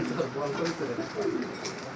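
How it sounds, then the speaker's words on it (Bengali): A feather-footed pigeon at a pigeon market coos in low, soft repeated phrases close by, with people talking over and around the calls. "সুন্দর একটা কবুতর"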